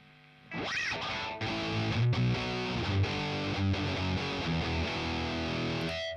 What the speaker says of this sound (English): Now a fat distortion.